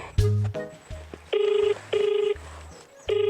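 A telephone being dialed: a few quick tones, then a repeating pattern of buzzing ring-back bursts with short gaps, loud and close, with no talking.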